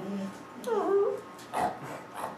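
A dog whimpers and whines in a few rising, high-pitched cries, close by, with faint human voices and small room noises around it.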